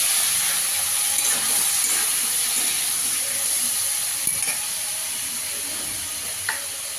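Prawns frying in a pan with chopped tomato and green chillies, a steady bright sizzle and hiss throughout with faint clinks, close and even, no talk.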